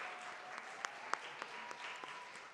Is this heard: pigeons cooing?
no